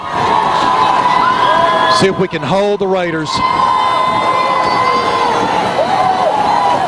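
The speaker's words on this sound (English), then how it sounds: "Players are trying to get the crowd into it." Crowd cheering and shouting at a high school football game between Providence and Houston Academy, a steady roar across the whole clip with a brief surge of yelling voices midway, under a commentator talking.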